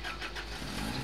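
A Toyota Yaris engine in the horror video game Cry of Fear, a short, quiet steady engine hum or idle with no talk over it.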